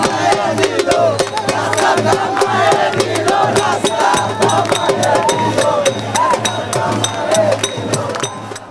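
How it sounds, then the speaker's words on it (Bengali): A large, dense crowd of young party supporters rallies for a BNP victory anniversary in Naya Paltan, raising a continuous roar of voices and shouts with sharp, rhythmic claps or beats punctuating it throughout, with a steady low hum underneath. "হাতে দলীয় প্রতীক, কণ্ঠে দীপ্ত স্লোগান, বিজয় র্যালিতে তারুণ্যের উচ্ছ্বাস।"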